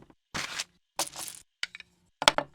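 Scrabble game tiles chopped into a percussion sample: four separate bursts of clacking wooden tiles, each a short cluster of bright clicks and rattles with silence between them.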